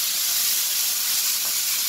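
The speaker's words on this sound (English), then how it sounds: "we're going to stir fry this" A loud, steady sizzle of beef and broccoli stir-frying in a hot pan, a constant bright hiss with no voices over it.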